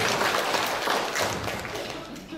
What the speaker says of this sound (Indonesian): Tepuk tangan buat Kesbangpol Kabupaten Bandung.